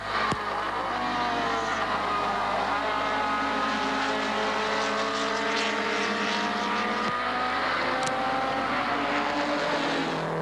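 Race car engines drone at the 1980 Hardie-Ferodo 1000, a steady loud in-car roar with shifting engine tones and a couple of sharp brief clicks, no voices.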